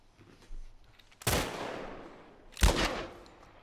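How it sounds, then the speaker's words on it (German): Two sharp gunshots in The Last of Us Part I, the first about a second into the clip and the second just over a second later, each with a bright crack and a decaying tail. There is no talk over them. "Ein Schuss hier."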